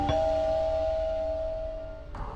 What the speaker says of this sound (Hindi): एक डोरबेल की आवाज आई तभी पूछा